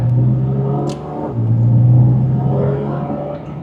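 A Porsche GT4 RS engine rumbles deep and loud close by, dipping briefly then swelling back into a throaty, steady growl.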